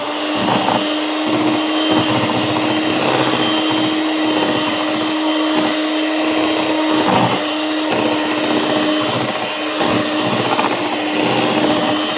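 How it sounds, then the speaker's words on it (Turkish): An electric hand mixer whirs loudly and continuously, its motor pitch wavering slightly as the beaters work through carrot, walnut and cinnamon cake batter. "Şimdi mikserle çırpıyoruz."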